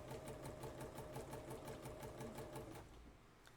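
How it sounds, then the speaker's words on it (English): A sewing machine stitching a zipper runs steadily with a fast, even mechanical patter, close and continuous, then slows and stops near the end. "Get started sewing."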